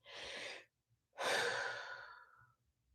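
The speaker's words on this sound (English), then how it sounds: "Take a deep breath" A slow, deep breath in and out, heard alone at close range: a long breathy inhale, a brief pause, then a longer exhale that slowly fades.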